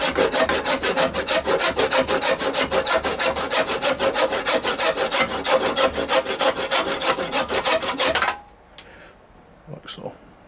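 Cured epoxy resin being sawn by hand, with a rapid, regular rasping back-and-forth stroke repeating loudly for about eight seconds before stopping, followed by a few faint handling sounds.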